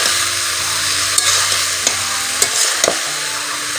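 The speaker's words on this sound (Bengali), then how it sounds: "হালকা একটু নাড়ানাড়ি করে নেব, নিচের থেকে তেলটা যেন উপর দিকে উঠে যায়" Curry with salt and turmeric is stirred through hot oil in a pan, a steady loud sizzle broken by several sharp scrapes and clinks of the spoon against the pan.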